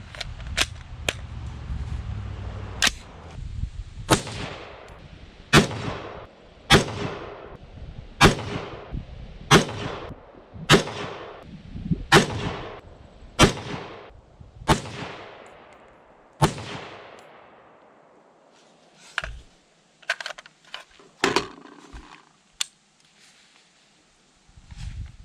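Bushmaster M4 rifle fired at a shooting range: a long string of about fifteen sharp, loud cracks at an uneven pace, followed by a quieter scattering of a few more shots and clanks toward the end.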